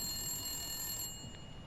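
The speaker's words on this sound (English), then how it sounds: "Some noisy ass phone." A telephone rings in The Long Dark, a faint electronic trill that holds briefly and then cuts off partway through, over low background hiss.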